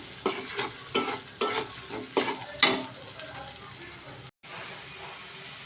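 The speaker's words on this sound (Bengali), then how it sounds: "আর পেঁয়াজটাকে লাল করে ভেজে নিব আমি।" Onions fry in oil until browned, with a rhythmic series of scraping stirs over a continuous close sizzle and a brief cut near the end.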